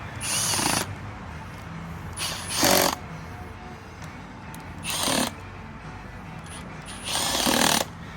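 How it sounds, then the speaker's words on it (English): Bolts being driven into the transfer case cover of a 1942 Dodge WC with a power tool, in four loud bursts of under a second each, spaced a couple of seconds apart, over a quiet workshop background. "put your bolts in and drive them home"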